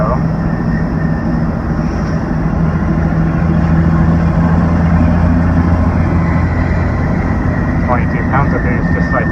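A 12-valve Cummins diesel truck engine pulls under turbo boost at about 1850 RPM, a loud, continuous low drone with steady droning tones and road rumble throughout, no talking.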